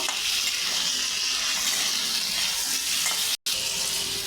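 Taro and potato with ginger-garlic-onion paste frying in a pan, a continuous dense hiss and sizzle with faint stirring underneath, steady and fairly loud, broken by one brief dropout.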